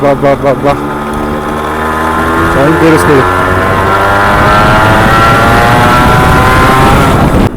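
A Suzuki Shogun two-stroke motorcycle revs hard and loud with a rising, sustained engine whine as the rear wheel spins, starting with a few short blips before holding a steady high roar.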